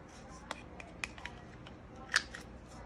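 Scissors make a few faint, quick snips while cutting a paper craft tag indoors, with small clicks scattered over a quiet background.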